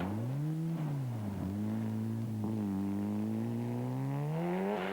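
A Mazda rally car in deep snow on a Swedish-style forest stage at Rally Finnskog 1993, its engine droning loud and close, revs swelling and dipping continuously through the whole stretch.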